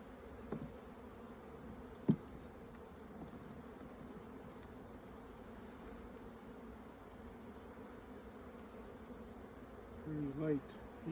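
Honeybees buzz steadily at summertime hive splits, a continuous low drone that stays even throughout, with a few faint knocks and a brief louder buzz near the end.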